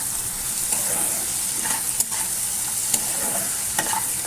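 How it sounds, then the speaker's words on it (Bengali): Ghugni sautés in a pan with salt, sugar and chilli powder, a continuous sizzle broken by several sharp scraping stirs at uneven intervals. "এবার কষবো কষে নিয়ে ঘুগনিটা ছেড়ে দেবো"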